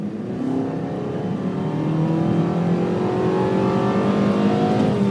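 A 2013 Volkswagen Tiguan crossover SUV with a 2.0-litre turbocharged four-cylinder accelerates hard from about 30 to 60 mph, its engine note climbing steadily in a continuous, loud drone heard from inside the cabin.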